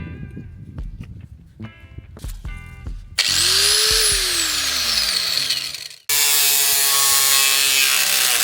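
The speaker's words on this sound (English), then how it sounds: "then I'm going to use an angle grinder to cut it and hopefully do a pretty straight line" An angle grinder starts up with a rising whine and cuts clamped metal pieces for a wood stove install in a camper, loud and close, stops briefly, then cuts again, after a few light knocks and clicks at the start.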